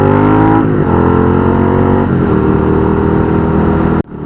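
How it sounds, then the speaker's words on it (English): A motorcycle fitted with a Two Brothers aftermarket exhaust revs loudly and close up, its throaty engine note rising and holding for about four seconds before cutting off abruptly. "I got those two brothers exhaust, so that they don't have to see me, they can hear me."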